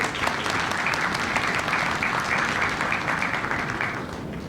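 A large audience applauds steadily at a talk concert with local politicians, a dense, even wash of clapping that holds strong throughout and eases slightly at the very end.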